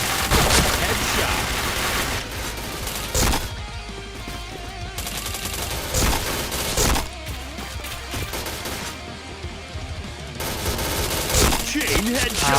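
Gunfire in a shooting video game: loud, dense bursts of automatic fire, with a few sharper single shots and brief lulls between volleys.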